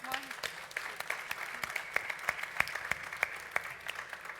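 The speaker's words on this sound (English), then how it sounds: "Can everyone join me, please, in a round of applause for our panelists this morning?" Audience applause for a morning panel at a careers fair, a steady patter of many hands clapping at moderate volume with a few sharper claps standing out, and a voice briefly audible underneath.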